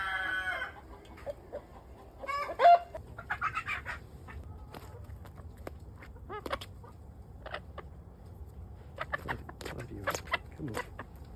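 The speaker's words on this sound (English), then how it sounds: "These hens are adorable." Lavender Araucana hens cluck softly and intermittently at close range, with scattered sharper calls and a faint crowing note amid quiet farmyard background.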